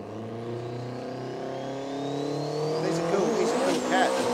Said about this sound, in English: the 3RZ is out and gone. Scotty Hoffman. Away he goes, 792 at 175 miles an hour